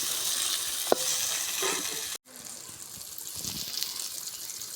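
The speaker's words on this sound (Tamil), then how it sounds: "வெங்காயம் தக்காளிலாம் நல்லா வதங்கிடுச்சு" Onions and tomatoes sautéing in a pan, with a soft continuous sizzle, a sharp clink near the start, and a brief cut in the middle before the frying carries on.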